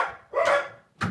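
Dogs barking indoors, two sharp close barks, the first drawn out and the second clipped short, with no talk.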